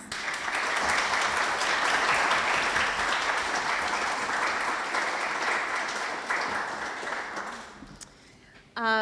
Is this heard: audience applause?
yes